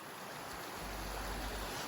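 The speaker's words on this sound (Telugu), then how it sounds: "కరెక్ట్గా ఈ పల్లెటూరికి మధ్యలో ఉంది చిన్న స్ట్రీము" A small stream runs through a village in the Faroe Islands, giving a soft, steady rushing of water that carries faintly and evenly through a short moment outdoors.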